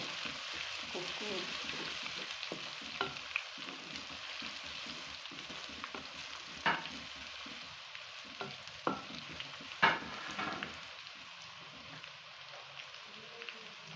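Garlic and ginger fry in a pan with a soft, continuous sizzle and scattered faint pops and crackles heard close up, fairly quiet throughout.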